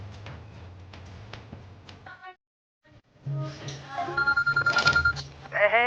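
Telephone ringing in a home during a family quarrel: a few short electronic ring bursts mixed with voices, then a brief silence before a louder patterned ringtone with repeated tonal pulses returns.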